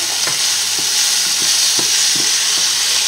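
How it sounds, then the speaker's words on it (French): Salmon risotto being stirred in a pan over the heat, a soft steady sizzle with a spoon scraping and sloshing through the rice every half second or so, close and continuous, with no talking. "Et on remue."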